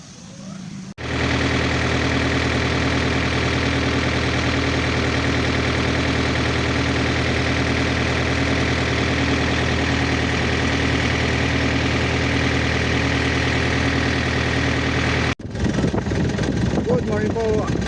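A farm tractor idles in a rice field after starting, giving a steady, loud, unbroken mid-pitched rumble for most of the stretch, then cuts out briefly before running again, with no talk.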